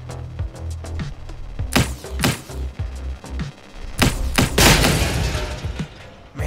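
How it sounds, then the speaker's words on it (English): Explosions go off in The Tower 2 VR shooter game: a string of booming thuds and crashes, with a loud, sustained blast partway through, heard alone without talk. "Love the shell-shaded explosion."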